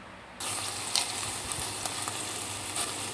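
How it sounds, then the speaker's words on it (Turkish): Minced meat browns in a hot pan with a steady, close sizzle that starts abruptly. A few soft bumps and stirring sounds break through the continuous frying hiss. "Kıymasını şöyle bir kavuralım."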